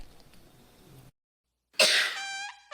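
In a cough medicine advertisement, a single loud, close, dry cough with throat clearing follows a short silence, with no talking.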